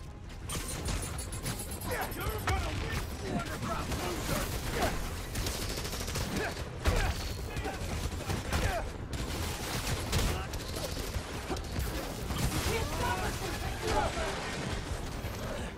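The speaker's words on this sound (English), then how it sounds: "How can they have a shootout with this many civilians around?" Sustained gunfire in a busy city street shootout in Marvel's Spider-Man: Miles Morales, dense bursts and clatter running throughout over a crowded, noisy backdrop with voices mixed in.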